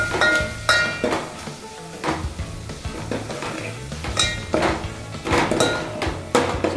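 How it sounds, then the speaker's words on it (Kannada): Tomato with chilli, coriander and turmeric powder fries in a pan for a North Karnataka peanut sambar, with a soft steady sizzle under repeated clinks and scrapes of a spoon stirring against the pan. "ಚೆನ್ನಾಗಿ ಫ್ರೈ ಮಾಡ್ಕೋಬೇಕು."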